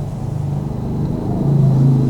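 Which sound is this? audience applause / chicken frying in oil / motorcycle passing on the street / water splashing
motorcycle passing on the street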